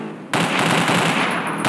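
Gunfire in a video game breaks out after a short pause, a loud dense burst of rapid machine-gun fire that runs on continuously to the end, with no talking.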